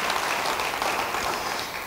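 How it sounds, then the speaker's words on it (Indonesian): A church congregation applauds during a sermon, giving a short burst of dense, steady clapping that fades slightly toward the end. "Beri tepuk tangan bagi dia"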